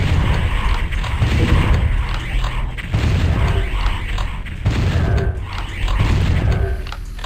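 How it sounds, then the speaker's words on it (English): Shotgun blasts ring out against imps in the Doom 64 Retribution game, loud repeated booms every second or so over a dense, continuous mechanical roar of combat. "Let's just use the shotgun on them."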